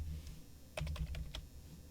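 Quick bursts of keystrokes on a computer keyboard, a short flurry of close, crisp clicks after a quiet start, heard alone.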